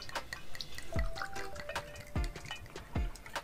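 Liquid poured into a cup for a POG juice old-fashioned rum cocktail, giving soft dripping and trickling splashes with a few distinct drops, close by and fairly quiet.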